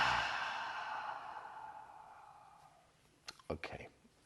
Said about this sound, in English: so take a couple of breaths